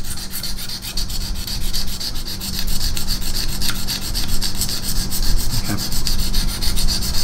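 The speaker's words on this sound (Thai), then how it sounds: "เสียงที่เปลี่ยนไปคือเสียงของเจ้าเบอร์ริงหรือเกสรคมที่เกิดขึ้นนะฮะที่มันเบ้ไปเบ้มาในแต่ละด้าน" A knife blade is stroked steadily on a KME sharpening system's stone, giving a continuous close, gritty scraping rhythm as a burr forms along the edge.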